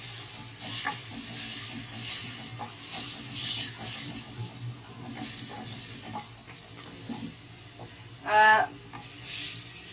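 Capsicum, onion and cabbage fry together in a pan with a continuous soft sizzle, broken by intermittent stirring scrapes and one sharp metallic clink near the end.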